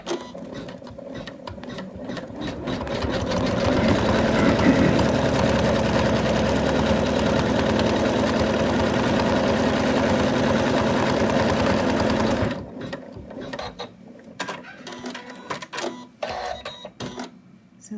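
An embroidery machine stitches a placement line for a Santa doll face in a loud, rapid, steady mechanical chatter for about twelve seconds, then stops, leaving scattered clicks and light handling sounds.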